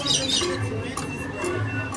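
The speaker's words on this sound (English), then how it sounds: "we got birds popping in and out of the house. Little toucan here." Toucan squawks and chirps inside the Adventureland Treehouse at Disneyland, sounding close and busy over a dense bed of park ambience and background chatter.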